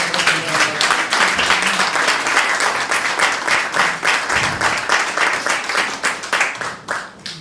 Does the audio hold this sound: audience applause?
yes